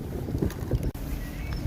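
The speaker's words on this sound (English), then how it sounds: "It's really windy today." Strong gusting wind buffets the microphone during a windy day of solar e-bike touring, a loud continuous low rumble with brief dips and swells, no voices present.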